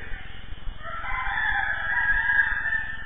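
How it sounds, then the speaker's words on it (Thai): A red junglefowl crows out in the forest, one long drawn-out call rising and holding, fairly loud and close over a low steady background hum. "ไก่ป่าเว้ย"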